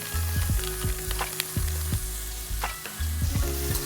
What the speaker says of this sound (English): 2-3 minutes to cook and saute down a little bit more.